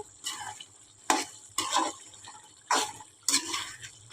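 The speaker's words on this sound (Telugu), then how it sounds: "మూత ఓపెన్ చేసి ఇలా కలుపుకుందామండి మధ్య మధ్యలో కలుపుకుంటూ ఉండాలి" A spoon stirring chicken curry in a pot over high flame, wet scraping strokes in bursts with sizzling between, close and moderately loud.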